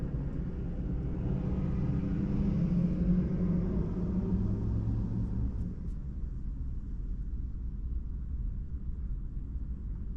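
A Tesla on Full Self Driving rolls over rough, jarring Houston streets, a low steady cabin rumble of tires and road noise that swells midway and then settles quieter, with no voices.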